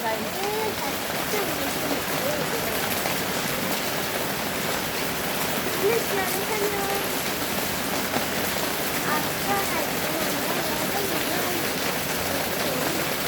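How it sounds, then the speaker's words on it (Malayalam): Steady rain falls in a constant hiss, with faint bird calls threading through the background and no break across the whole stretch. "മഴയാണ്."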